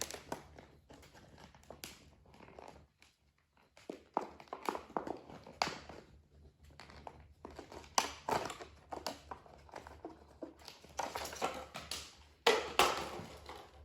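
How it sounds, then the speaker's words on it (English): Plastic packaging crinkles and crackles in irregular bursts as a wiper blade for a Subaru Outback is worked free, close up and fairly quiet. "The hardest part of this install is getting the blade out of the packaging."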